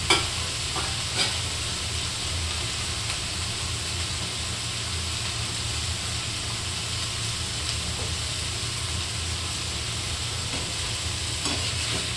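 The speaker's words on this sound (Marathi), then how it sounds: "आता असं परतून घेऊया आपण" Cauliflower stir-frying in a pan, a steady sizzle with irregular scraping and stirring strokes throughout, close and moderately loud, with a low steady hum underneath and no talking.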